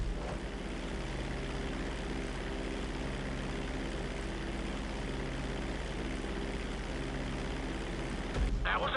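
A fixed-wing airplane in a flight video game drones steadily just after takeoff, its engine hum holding a continuous level throughout, with a brief shift near the end.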